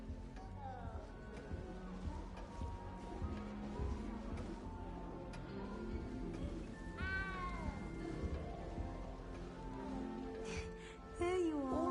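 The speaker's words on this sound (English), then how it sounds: "You don't need to be frightened, little cat." Small cat in Hogwarts Legacy meowing a few times over a busy game background, with a clear drawn-out meow midway and a louder rising cry at the end.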